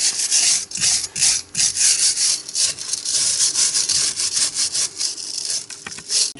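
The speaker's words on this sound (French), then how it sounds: "Tu peux en profiter pour enlever la rouille avec une brosse métallique." A wire brush scrubs rust off a car's front brake caliper bracket in a garage, making loud, rough scraping strokes in a steady back-and-forth rhythm, with no talking.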